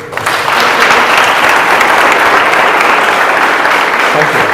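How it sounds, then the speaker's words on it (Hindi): Audience at a career guidance seminar breaking into sustained applause, a dense, steady wash of many clapping hands close by that swells in and holds at full level throughout. "वेरी गुड, तालियां हो जाए"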